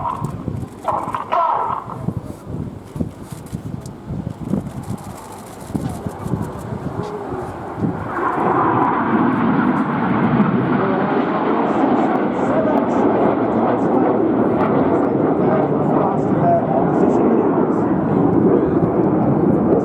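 Red Arrows display jets roll through an aerobatic sequence, a distant jet roar that swells into a loud sustained rumble, with a commentator's voice heard over it.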